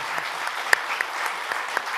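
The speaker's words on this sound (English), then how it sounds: "Let's give them a round of applause." Audience applause for panelists at an offshore wind and ports conference panel, a moderate, even patter of clapping with a few sharper claps, heard from a modest distance.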